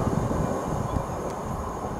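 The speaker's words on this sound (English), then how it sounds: "hauling an intermodal train which is en route from Felixstowe North Terminal to Hams Hall" Class 66 diesel locomotive 66733 hauls an intermodal freight train through Stowmarket station, a steady broadband rumble of engine and wagons rolling past at moderate distance.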